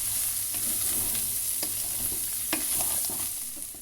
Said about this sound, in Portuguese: Agora eu vou deixar dar uma boa fritadinha aqui também nessa linguiça, com a carne seca e com bacon.